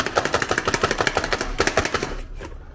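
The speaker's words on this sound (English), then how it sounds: "Just keep chopping it." Rapid, regular chopping thuds from a hand chopper on a board, cutting clams for linguine sauce, about a dozen quick strikes in a row, close and crisp, then a pause and a few more.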